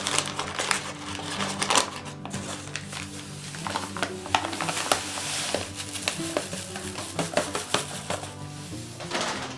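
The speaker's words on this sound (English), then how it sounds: "I'm going to add 6 pounds of this white sugar, table sugar, to a pot" Six pounds of white table sugar are poured into a pot. Dense, continuous granular rustling and scraping come with some light metallic clinks, close and steady throughout.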